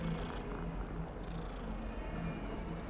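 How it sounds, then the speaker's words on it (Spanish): Steady, low purring from a cat in the video game Hogwarts Legacy, continuous and soft, with no talking over it. "¿Qué gato les gusta más? ¿Este así más atigrado o el otro?"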